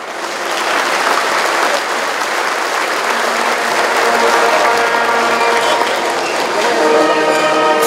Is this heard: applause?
yes